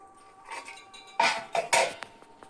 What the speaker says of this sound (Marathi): आता आपण झाकण काढून बघू उकडलेत की नाही ते.